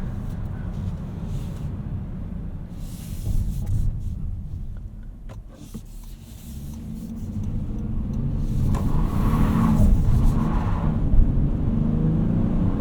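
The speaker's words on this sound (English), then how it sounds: "There is a lot of front wheel spin in this." A Honda Odyssey Elite minivan accelerates hard with front wheel spin, a low engine rumble and road roar that builds steadily and grows louder toward the end.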